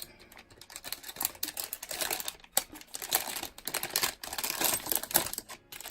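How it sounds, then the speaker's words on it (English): Close, crackly rustling and crinkling of plastic wrapping on BT21 merchandise being unboxed, in irregular bursts, with sharp snaps now and then and no voices. "I apologize if it gets really loud with all this plastic."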